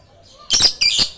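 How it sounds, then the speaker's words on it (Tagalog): Lovebirds chirping close by while being fed moringa leaves, with two bursts of bright, rapid chirps followed by a third call cut off at the end. "Ibon lovebirds."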